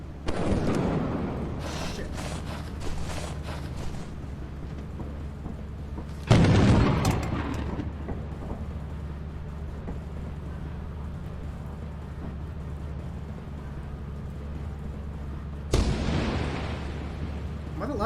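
In the video game Lethal Company, an automated turret fires a rapid stuttering volley at the start, then gives two later loud bursts, over a steady low rumble, with some voice chat around it.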